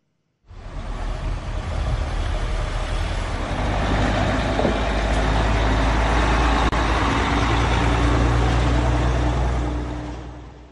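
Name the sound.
trucks carrying heavy equipment entering Gaza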